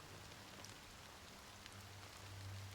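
Fine drizzle of black rain in Honkai: Star Rail, a soft, steady hiss of rainfall with scattered droplet ticks, faint and continuous over a low ambient hum.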